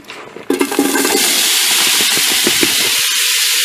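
Chopped onions hitting a pan with a little olive oil burst into a loud, steady sizzle that starts abruptly and hisses on without a break, close up.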